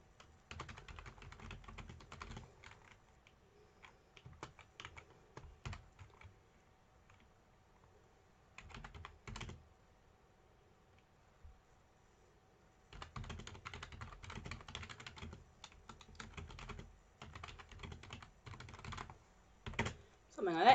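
Fingers type on a computer keyboard in quick bursts of close clicking, broken by quiet pauses and restarts, with light talk faintly in the background.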